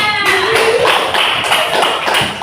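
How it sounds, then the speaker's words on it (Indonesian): Children in a coding class clap their hands together, producing a loud, close burst of irregular claps and taps, with a brief tone at the start. "Oke, tepuk tangan untuk semuanya."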